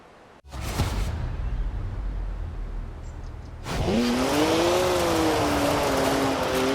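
BMW 1M engine in the racing game Forza Horizon 4, a steady loud drone that swells into a higher revving note with rising and falling pitch after a few seconds, with no talk.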